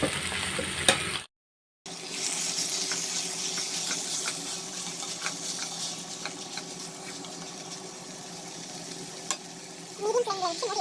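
Chicken fries with softened onions in a pan, a steady close sizzle with occasional scraping stirs, briefly cut out near the start and ending in a clatter.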